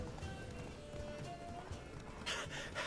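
Roach, the horse in The Witcher 3, runs with rapid rhythmic hoofbeats close by, ending in a brighter burst of noise.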